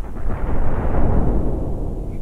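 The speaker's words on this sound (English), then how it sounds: "These are like nuclear missiles or something? Okay. So let's shoot Australia with these things." Nuclear missiles striking Australia in the planet-destruction game Solar Smash, heard as a loud, sustained rumbling roar of explosions that fills the whole stretch without pause.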